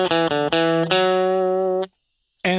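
A distorted electric guitar lead tone from a Kemper Profiler plays a few picked notes and then holds a long sustained note, cuts to silence, and strikes again.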